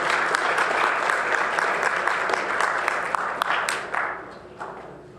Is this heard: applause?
yes